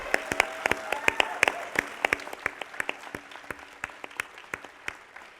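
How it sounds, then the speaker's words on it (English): At an awards ceremony, a modest audience claps in distinct, sparse hand claps, individual sharp cracks rather than a dense roar, steady across five seconds with a faint voice in the background. "we need to give them a round of applause."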